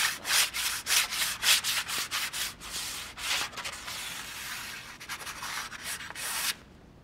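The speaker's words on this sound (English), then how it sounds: "I'm just gonna take a piece of chalk and give it a rub here." Chalk rubbed across the face of a rustic wooden chalkboard in a run of close, scratchy strokes, each sweep rising and falling in a steady back-and-forth rhythm until it stops near the end.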